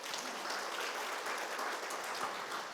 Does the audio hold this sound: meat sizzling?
no